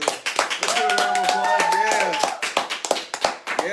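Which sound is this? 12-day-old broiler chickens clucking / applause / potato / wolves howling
applause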